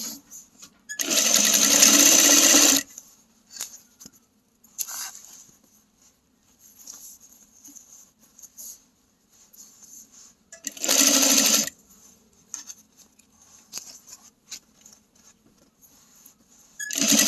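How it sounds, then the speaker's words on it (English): A sewing machine stitches down bag seams in two loud bursts, a longer run early and a shorter one later, separated by quiet stretches of light handling noise. "we're gonna go to the machine and just sew all these down"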